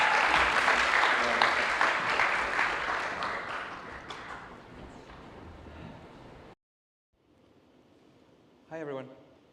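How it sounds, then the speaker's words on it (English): Applause from a youth conference audience welcoming a speaker, a dense crowd clapping that fills the first six seconds and slowly fades, then a sudden silence followed by a faint room tone and a brief voice. "can I have a big round of applause for Nikki?"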